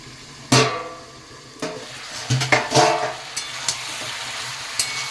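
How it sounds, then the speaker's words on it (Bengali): Potatoes frying in a pan with a katla fish-head and pumpkin curry: a soft sizzle with several scraping, clanking spoon-against-pan stirs, one sharp knock at the start and lighter taps after. "আলুটা একটু ভাজতে দেব"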